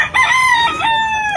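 A rooster crows loud and close on a farm, one clear drawn-out cock-a-doodle-doo call that rises and then holds steady before trailing off.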